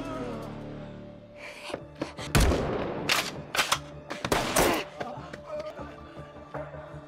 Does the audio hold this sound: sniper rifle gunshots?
yes